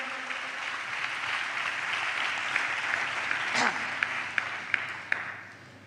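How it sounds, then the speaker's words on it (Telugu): A church congregation applauds in praise, a broad steady wash of clapping from many hands that holds for several seconds, with a few sharper individual claps standing out near the end before it fades. "చప్పట్లు కొడితే యేసయ్యకు స్తోత్రాలు చెప్దాం."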